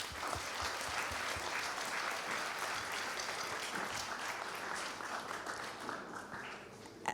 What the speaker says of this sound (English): So please join me in giving everyone who contributes to the school a round of applause.